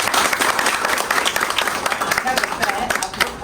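An indoor audience at a district library reading-month celebration applauds the library staff, steady dense clapping running throughout, fairly close, with voices mixed in.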